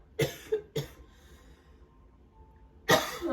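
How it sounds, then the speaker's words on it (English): Several sharp coughs up close: two quick ones, a third shortly after, then another burst after a pause. "That's a cough."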